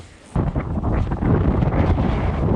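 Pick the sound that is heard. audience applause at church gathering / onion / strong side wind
strong side wind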